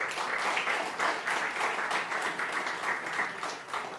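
A church congregation applauds in a dense, continuous burst of many hands clapping, loud and close, sustained evenly for several seconds with no voices standing out.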